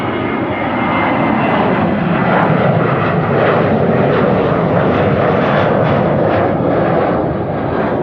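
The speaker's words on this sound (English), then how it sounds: "more departures over here, 737s taking off." Boeing 737 jets roar on departure at Amsterdam Schiphol, a loud, steady broadband engine rumble that fills the whole stretch without letting up.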